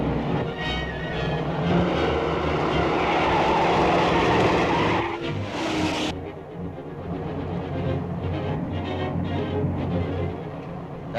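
Tires skid and engines roar loudly from cars in a 1937 serial car chase, a dense sustained screech with rumbling motor noise that briefly swells before settling into a steady engine drone.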